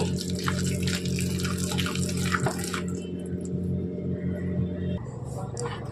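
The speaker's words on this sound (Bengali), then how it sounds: "এটা অল্প অল্প করে জল দিয়ে আমরা এটা মিক্স করে নেব" Water is poured and mixed into an oats batter in a kitchen, a running liquid splash with wet stirring that thins out midway, continuing over a steady low hum with no talk.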